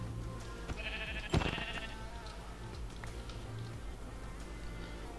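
A sheep bleating in Minecraft, played with shaders: one loud, close bleat stands out above a steady game ambience, with a few faint sounds around it and no talking.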